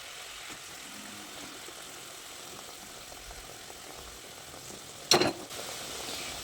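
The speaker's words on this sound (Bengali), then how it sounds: "ঠিক এই পর্যায়ে যে বেগুনগুলো ভেজে রেখেছিলাম সেগুলো এর মধ্যে একে একে দিয়ে দিচ্ছি।" Fried eggplant pieces going into hot masala and oil in a pan, a soft steady sizzle with one sharp clatter as a piece drops in, near and fairly quiet, no speech.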